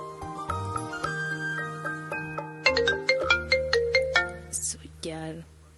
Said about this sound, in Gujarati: બેટા તારો ફોન વાગી રહ્યો છે, ઉપાડતી કેમ નથી?